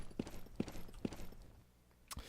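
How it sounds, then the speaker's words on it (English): Three evenly spaced footsteps on carpet in the video game A Step Into Darkness, hard and clip-clopping rather than soft, followed by a short pause and one more step. "Notice also how the footstep sounds don't match the carpet"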